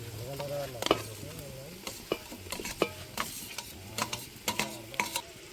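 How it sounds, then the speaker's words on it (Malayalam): Tomatoes go into a pan of ghee rice cooking, with a soft sizzle under repeated scraping and stirring clicks of a utensil against the pan, fairly faint and close. "അതിലേക്ക് തക്കാളി ഇടുകയാണ്."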